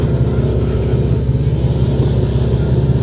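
A Buick LeSabre engine runs hard on a flat tire that has worn down almost to the rim, making a loud, constant, rough rumble with a throbbing pulse. There are no voices over it.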